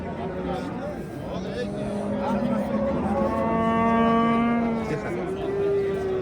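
A cow at a livestock market lets out a long, loud moo that rises and holds, with people talking and a busy outdoor crowd around it.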